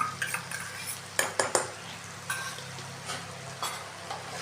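Utensil scraping and clanking in a pot while fish head muri ghonto, made with rice fried in ghee, is stirred, giving several sharp metallic knocks in a quiet kitchen with no talk.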